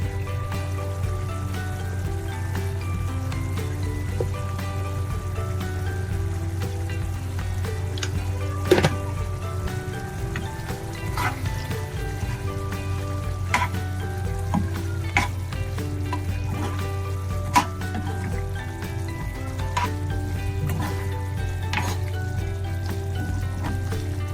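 Beef fries and sizzles steadily in a pan while it is stirred after pepper and masala powder are added, with scraping clicks from the spoon over the continuous loud sizzle.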